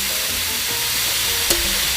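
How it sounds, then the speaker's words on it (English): Sirloin flap steak sizzling on a Blackstone griddle set on high, a loud, dense, continuous frying hiss heard up close, with a faint tap about midway. "Hear that sizzle?"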